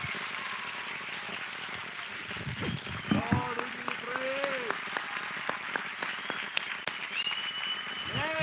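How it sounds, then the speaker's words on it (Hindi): An audience at a church meeting breaks into clapping, a steady patter of many hands in a room while voices cheer and talk over it. "आइए प्रभु के लिए एक अच्छी ताली बजाएंगे,"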